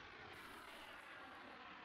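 Allied airplanes drone overhead in a cooperative Arma 3 match, a faint, steady engine hum that swells slightly and holds without any talk.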